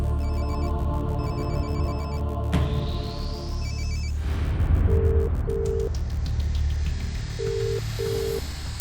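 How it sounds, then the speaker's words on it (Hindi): A phone ringtone repeats in short beeping tones over a dense musical backdrop, steady and fairly loud, with a whooshing sweep midway. "रिंग जा रही है"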